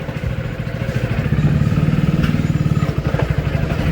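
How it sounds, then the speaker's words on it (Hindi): A freshly washed motorcycle engine runs close by, its steady rapid thumping putter loud and continuous throughout, with no talking over it. "ऑटोमेटिक चल रही है भाई, ऑटोमेटिक गाड़ी, ऑटोमेटिक।"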